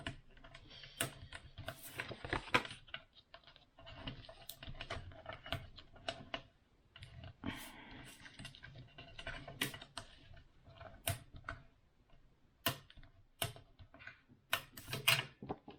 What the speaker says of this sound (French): je vais marquer les plis comme ceci